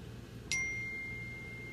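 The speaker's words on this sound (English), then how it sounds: "Because my phone just went off" A phone notification going off, a single short bright chime with a thin ringing tone that lingers and fades, quiet against a low background hum.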